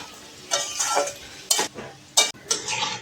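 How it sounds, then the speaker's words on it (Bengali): A spatula stirs fried shrimp with ghetkol stems in a frying pan, giving intermittent scraping and clattering bursts over a light sizzle, close up with no talking. "চিংড়ি মাছ দিয়ে আমি আরও 2-3 মিনিট নেড়ে ছেড়ে নিয়েছি"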